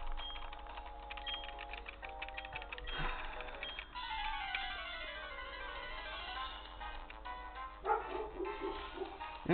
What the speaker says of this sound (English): Rocky, it's okay. No need to bark.